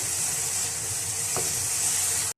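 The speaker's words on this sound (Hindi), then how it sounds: "मसालों को बहुत अच्छा सा भून लेंगे।" Spices with half a teaspoon of turmeric are fried in a pan for vegetable kofta kabab, producing a short, even, close hiss and sizzle with no talk.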